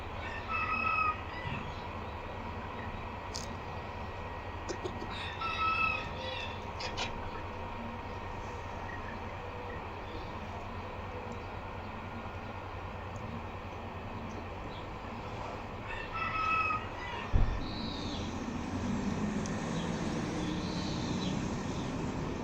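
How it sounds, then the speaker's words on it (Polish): Red-winged bantam chickens, three hens and a rooster, with repeated crowing and clucking over a constant noisy background rumble, including a brief thump. "No i karzełki czerwono skrzydłe. trzy kureczki, jeden kogucik."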